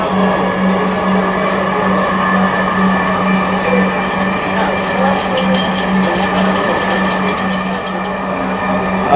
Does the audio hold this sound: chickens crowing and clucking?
no